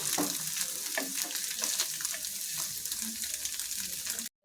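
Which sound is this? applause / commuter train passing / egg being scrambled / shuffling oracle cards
egg being scrambled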